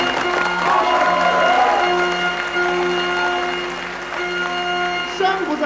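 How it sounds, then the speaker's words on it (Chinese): Applause and some cheering from a wedding audience greet a bride and groom brought onto the stage at an evening wedding celebration, the clapping steady and moderately loud over a musical backing for several seconds. "掌声不多，响起来就行"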